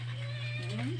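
A cat gives a short meow near the end, a rising and falling call over a constant low electrical hum with faint background murmur.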